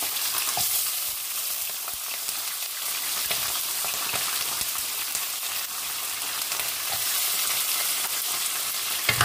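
Onion sautés in hot oil with a continuous close, loud sizzling hiss and crackle like light rain. Soft stirring knocks and scrapes come through, with no talking.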